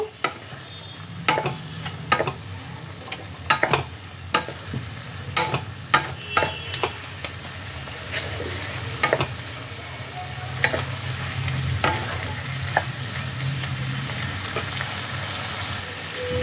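Chili paneer ingredients are stirred together in a hot pan: a continuous sizzle broken by repeated sharp clicks and scrapes of a spatula on the metal, close and steady.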